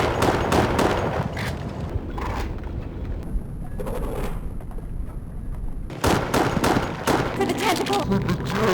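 Handgun fire in Resident Evil: The Darkside Chronicles, with a run of sharp, loud shots in quick bursts early on and again near the end, separated by a quieter stretch with a high whine, while a voice shouts briefly.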